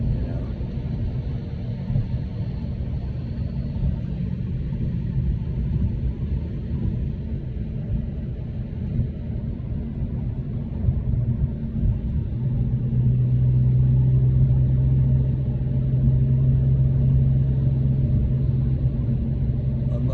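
Interior engine and road rumble from a Porsche 911 of the 993 generation heading downhill, a steady low drone that swells slightly toward the end, with faint talk beneath it.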